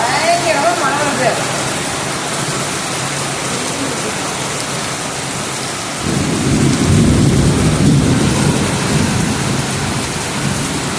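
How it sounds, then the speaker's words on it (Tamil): Heavy rain pours in a loud, constant roar, and a deep thunder rumble swells partway through and keeps going under the downpour. "பயங்கரமாக மழை வருது."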